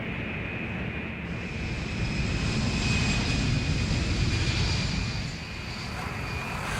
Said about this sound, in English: carpet bomb with B-52s